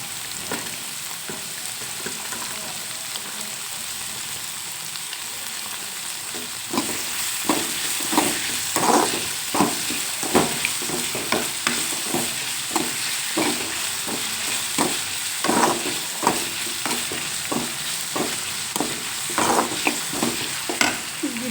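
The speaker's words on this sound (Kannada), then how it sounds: "ಇದು ಫ್ರೈ ಆಗ್ತಾ ಇದ್ದಂಗೆ" Chopped tomatoes fry in a pan for tomato sambar, a constant sizzle broken by repeated loud spatula scrapes and stirring strokes that settle into a regular rhythm after the first few seconds.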